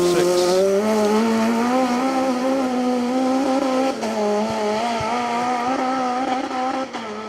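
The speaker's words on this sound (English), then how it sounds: "Next car drops down towards us now. And this is the Peugeot 306." A rear-wheel-drive Peugeot 306 rally car on a forest stage of the Wyedean Stages Rally, its engine roaring loud and sustained as it drops down and drives past close by, revs rising and falling.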